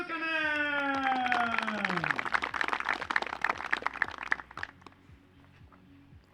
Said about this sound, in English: Let's get a warm round of applause for Nestori